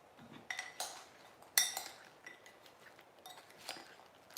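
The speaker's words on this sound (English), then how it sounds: "And now I mix it in." Chocolate bar chunks being mixed into a fruit salad in a bowl, giving scattered light clinks and scrapes of a utensil against the dish, close and intermittent, with no talk.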